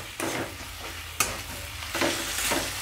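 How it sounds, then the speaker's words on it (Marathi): Fire-roasted brinjal fries and sizzles in a pan. A steady close sizzle is broken by a few sharp stirring scrapes and bursts. "आता ही वांगी पण आपण यामध्ये चांगली फ्राय करून घेणार आहे।"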